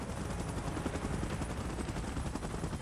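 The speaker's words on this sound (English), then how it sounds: "Chopper in position." A helicopter in the PUBG Mobile video game gives off a fast, steady rotor chop, quiet and continuous with a dense thumping texture and no voices.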